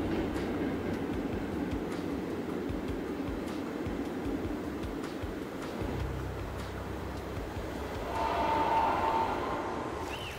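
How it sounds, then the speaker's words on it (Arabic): A passenger train travels through Norway's mountains, past rivers and waterfalls, on a line running since 1940. Its steady rumble and rail noise roll on continuously, with a brief tonal whine near the end. "منذ عام 1940 أخذ هذا القطار ركابه عبر الأنهار الجارية، وتسلق الجبال، وقطع الشلالات الغزيرة."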